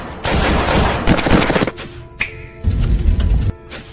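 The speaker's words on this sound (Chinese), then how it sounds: "方才在黑暗中枪声四响" Gunshots ring out in the dark in an animated suspense series: a few sharp, loud bursts of fire in quick succession, with rapid cracks clustered close together and brief gaps between them.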